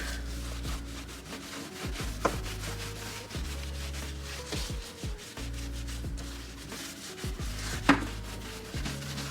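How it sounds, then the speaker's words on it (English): A cloth wiping a stove top with citric acid makes steady, repetitive rubbing and scrubbing strokes close up, with occasional light knocks. "I'm taking that same cloth as before, and I'm just gonna do my first wipe."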